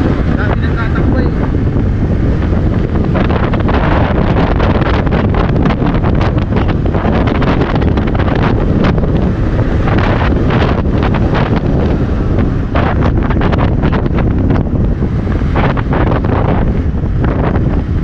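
Strong wind buffets the microphone beside rough waves along a road in Balatan after a super typhoon, a loud, continuous roar and rumble with no letup for the whole stretch.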